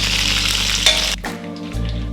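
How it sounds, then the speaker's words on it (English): Beef stir-frying in oil in a wok for beef chow fun, a loud close sizzle that cuts out briefly in the middle with a clink, then the frying hiss resumes. "it took only about 3 minutes to stir fry the beef"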